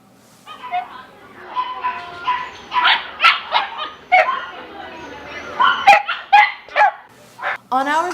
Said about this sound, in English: The shelter dogs were pretty adorable too.